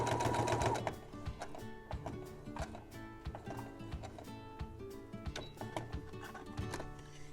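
A sewing machine stitches a fabric soup bowl cozy, making a fast, even mechanical chatter that briefly slows and restarts for a short backstitch, close and alone with no talking.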